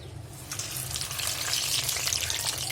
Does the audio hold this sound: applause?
no